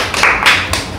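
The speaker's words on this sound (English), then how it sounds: "Clap for her." Children clap for a classmate in a lively classroom, a short burst of close, loud, uneven claps with no talking.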